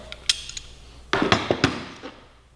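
A bolt on Kawasaki Ninja 400 levers tightened down with a ratchet, giving a few sharp metallic clicks and clanks, close and clear with quiet gaps between them.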